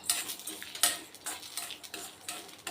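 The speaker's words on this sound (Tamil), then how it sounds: "இந்த துவரம்பருப்பு வந்து லைட்டாக பிங்க் கலர் ஆகணும் அது வரைக்கும் இதை வறுத்துக்கணும்" Toor dal and cumin dry roasting in a pan, with repeated scraping and stirring strokes of a spoon against the metal surface, close and fairly quiet, with no talking.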